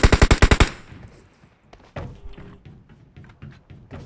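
Rapid burst of about six loud automatic gunshots in PUBG Mobile opens the sequence, then gives way to quieter scattered thuds and clicks of in-game action with no talk.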